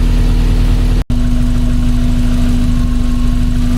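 Steady, close idle of a 1982 VW Westfalia engine with an even low drone and a fine buzzing tone, broken by one abrupt momentary cutout before resuming unchanged.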